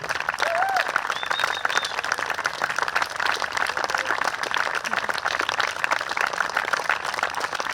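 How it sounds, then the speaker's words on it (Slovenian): A concert audience applauds a youth saxophone orchestra's mentor with steady, full-room clapping that holds as an even wash from start to finish, with some crowd murmur beneath. "In pa še en aplavz, prosim, za njihovega mentorja, Lan Meden"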